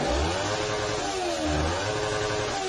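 A motorcycle engine close by, revving in a couple of loud swells over a rough, continuous rumble.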